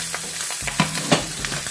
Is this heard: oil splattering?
yes